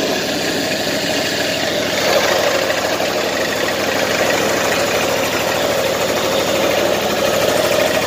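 A small engine with 350 hours of use, recalled for a fuel pump fault and still showing its engine light, idles steadily after starting, a continuous even mechanical hum with a faint rhythmic knock throughout.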